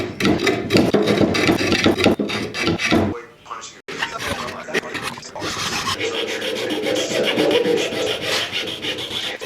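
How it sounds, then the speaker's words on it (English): Hand sanding of the wooden limb tips of a bow, a close, loud rasping rub in continuous back-and-forth strokes with a brief pause partway through. "I got them sanded down really nice."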